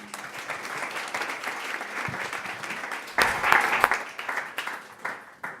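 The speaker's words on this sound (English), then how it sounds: "Let's give them all a round of applause." Steady applause from an audience thanking the panelists at a human-centered design event, continuous and moderately loud, swelling briefly in the middle before tapering off.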